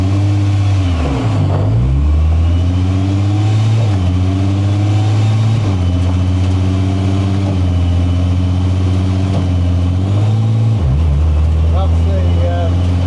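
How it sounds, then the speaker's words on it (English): Ford Escort with a V6 engine and a converted 8HP sequential gearbox driven at low speed, a steady loud engine drone with several shifts in pitch as revs drop and settle when the torque converter locks up, alone throughout. "That was the torque converter locking up."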